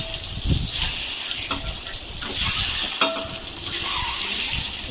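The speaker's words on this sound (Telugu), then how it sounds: "ముందుగా మనం బాయిల్ చేసి పక్కన పెట్టుకున్న ఎగ్స్ని వేసి ఫ్రై చేసుకోవాలి" Boiled eggs frying in a pan of oil with red chilli powder and salt for egg biryani, giving a steady close sizzle and crackle with a few soft clinks of stirring.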